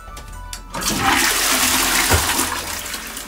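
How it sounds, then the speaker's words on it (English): A dual-flush toilet in a bathroom flushes with a loud, close rush of water after a couple of faint clicks, the gushing swirl holding steady for a few seconds. "Got a half flush or full flush"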